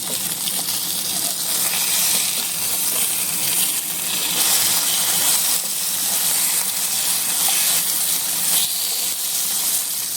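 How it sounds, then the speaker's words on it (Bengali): Fish fries in oil in a pan with a dense, continuous hiss and sizzle, loud and close, holding steady with faint pops and no voices. "তারপরে মাছটা ভেজে নেব সুন্দর করে, হালকা লালচে লালচে করে ভেজে নেব মাছটাকে।"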